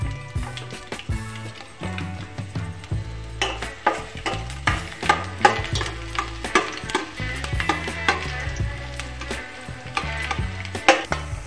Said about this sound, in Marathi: मी इकडे या कढईमध्ये 2 बुटले तेल घेतलेले आहे व मी त्यामध्ये बारीक केलेले लसूण टाकून